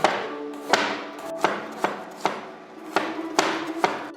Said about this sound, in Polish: siekam drobno